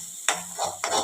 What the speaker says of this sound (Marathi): हा मसाला आपल्याला मंद गॅसवर छान असा तेल सुटेपर्यंत परतून घ्यायचा आहे.